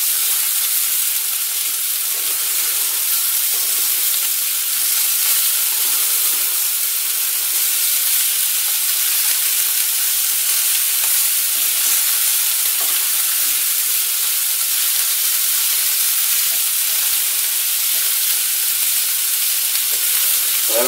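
Meatballs fry in a pan with an unbroken, loud, hissing sizzle that holds steady throughout, with no voices.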